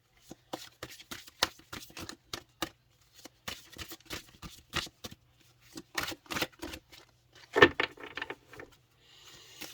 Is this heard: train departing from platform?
no